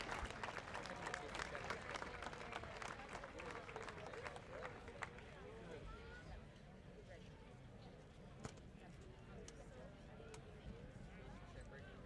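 Applause and crowd noise at a Buena Vista University homecoming football game against Luther College, clapping that starts stronger and thins out, with someone talking over it.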